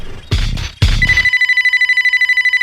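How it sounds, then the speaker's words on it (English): A mobile phone rings after two brief bursts of other sound, a loud, close electronic ringtone pulsing in a fast, regular beeping pattern that continues steadily. "That's my phone."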